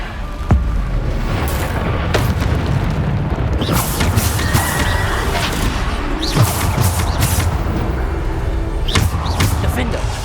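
Spell blasts from the Bombarda curse in the Hogwarts Legacy video game, loud booming explosions recurring several times over a dense rumble of combat effects, alone without talk.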